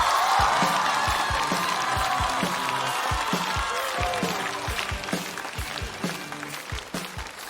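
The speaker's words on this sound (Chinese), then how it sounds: "掌声有请黑灯" A studio audience bursts into applause and cheers to welcome stand-up comedian Heideng on stage, loud at first and then thinning out over several seconds.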